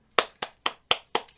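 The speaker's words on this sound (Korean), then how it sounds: "일단 물개 박수 한번 치고 시작을 하겠습니다." Enthusiastic hand clapping: six sharp, evenly spaced claps ring out close and alone, with no voices.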